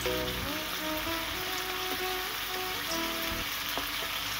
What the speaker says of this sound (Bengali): এবার আমরা সর্ষের তেল গরম করে ওতে একটু শুকনো লঙ্কা, এলাচ আর নর্মাল পেঁয়াজ বাটা, মানে বেরেস্তাটা নয়, একদম কাঁচা পেঁয়াজ বাটা, সেটা দিয়ে দেবো